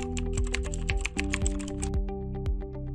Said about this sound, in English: I'm gonna create a character reference by typing something like this.